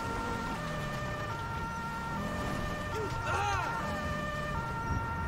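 An ambulance siren in the GTA V video game wails and sweeps up and down from a moderate distance, layered over steady engine and traffic drone with tonal hum throughout.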